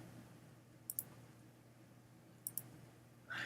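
Two quick pairs of faint, sharp mouse clicks, evenly spaced, while making a magic wand selection in a photo editor, set against a quiet steady room hum.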